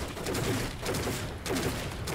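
Rapid bursts of phaser gunfire from the sci-fi shooter The Cycle, a dense, steady stream of energy shots that stays loud and close throughout, with only brief gaps.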